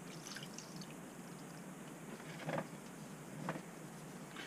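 Cold water drips from saturated cotton pads as they are wrung out, two soft distinct drops landing about a second apart over a faint steady background hiss.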